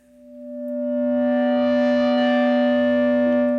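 A sustained Novation Peak synthesizer tone swells in and holds, thick with buzzy overdriven distortion and bright harmonic overtones.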